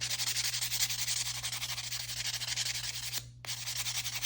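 A nail file sands an acrylic stiletto nail in steady back-and-forth rubbing strokes, close and fairly loud, with a short pause near the end.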